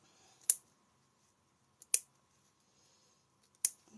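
Small snips cutting felt, three crisp isolated snaps spaced about one and a half seconds apart against near silence, close and fairly quiet.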